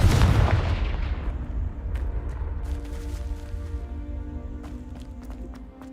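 A Confringo blasting-spell explosion in Hogwarts Legacy bursts loudly at the start, then rumbles and fades over several seconds while faint footsteps and small impacts follow.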